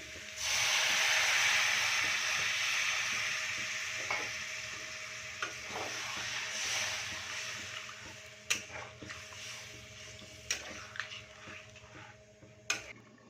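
Water poured onto well-fried spice masala in a pot of pumpkin and potato curry, bursting into a loud hissing sizzle that slowly subsides, followed by sharp clicks and clatters of a spoon against the pan.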